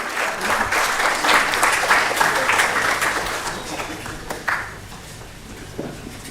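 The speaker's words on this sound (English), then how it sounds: "With a round of applause, let us welcome him." Audience applause welcoming a guest speaker at a research institute's annual meeting, a steady broadband patter of many hands that fades toward the end, with a brief thump near the close.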